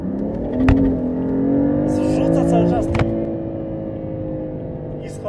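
A 550 hp BMW M4 engine revs and its exhaust roars close by, with a few sharp crackles on top of a steady drone, while someone speaks over it.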